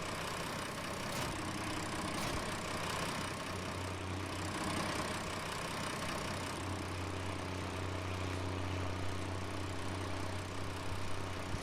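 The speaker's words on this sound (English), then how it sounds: "Good old international tractor." An International tractor's engine idles in Farming Simulator 19 with a steady, continuous mid-low hum that stays even and unbroken throughout.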